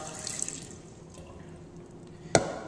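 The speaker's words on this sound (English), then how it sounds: "So I'll just pour a little water out." Water poured out of a pot while washing sushi rice, a faint trickle and splash in a kitchen with one short sharp clunk near the end.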